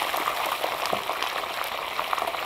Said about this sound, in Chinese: 小火慢慢把糖炒化，枣红色冒泡泡